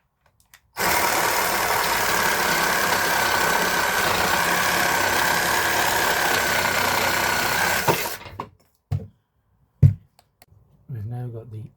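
A reciprocating saw fitted with a 6 TPI blade cuts through 30 by 35 mm rough timber in one loud, continuous burst of buzzing for about seven seconds, then stops abruptly, followed by a few short knocks and a voice speaking.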